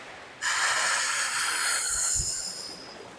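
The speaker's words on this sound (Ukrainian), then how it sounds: "Вдих та видих." One long, deep breath taken during an active yoga practice rushes out as a loud, airy exhale that fades slowly. A low thud sounds near the end, and nobody speaks.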